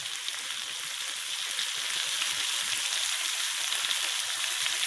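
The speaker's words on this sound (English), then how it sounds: "The sizzle is still there, but it's not as loud as before." Continuous close sizzling and crackling of flanken short ribs frying in a hot pan on a stovetop, steady and fairly loud, with no voices.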